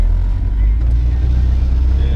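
A 1966 Ford Mustang hardtop is driven, its engine a loud, steady low rumble heard from close by for a couple of seconds.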